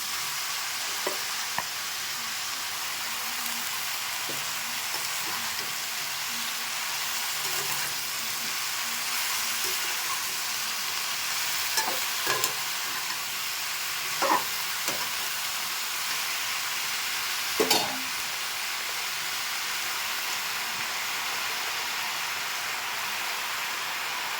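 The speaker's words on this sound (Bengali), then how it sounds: "কুমড়োটাকে একটু ভেজে নিয়েছি এবার পালং শাকটা দিয়ে দেবো" Pumpkin and spinach cook together in a pan, giving a steady low sizzle with a soft hiss, broken now and then by faint scrapes and knocks of stirring.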